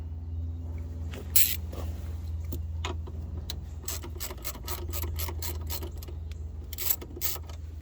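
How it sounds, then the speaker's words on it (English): A ratchet loosens the battery terminal clamps on a Dodge Durango, making bursts of rapid clicking strokes over a low steady engine-bay hum, close and unaccompanied by talk. "Just loosen them a little bit, and then you'll be able to pull the battery connections off."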